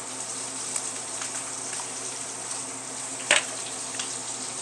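Four eggs frying in butter in a nonstick pan, giving a steady close sizzle with one brief louder crackle partway through.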